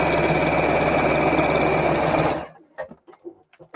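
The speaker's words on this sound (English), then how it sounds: "I'm just doing this on the machine" A sewing machine stitches a bag in a loud, steady, rapid mechanical whir for about two seconds, then stops, leaving a few soft handling clunks.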